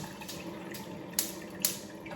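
Tap water running steadily into a saucepan while making gnocchi, a continuous moderate splashing stream with a couple of brief louder clinks or splashes partway through.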